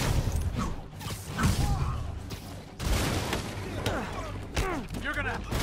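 Henchmen fire guns in a Spider-Man video game, with bursts of rapid shots and impacts amid busy action effects. Voices in the game talk over the gunfire.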